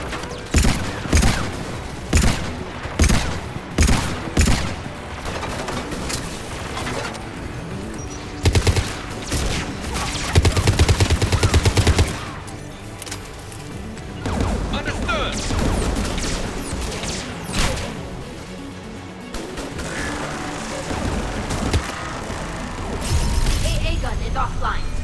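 Rapid gunfire in the video game Mass Effect 3, with dense bursts and repeated sharp shots, loud and close, alternating with mechanical clanks and crashes while voices talk between and over the shooting.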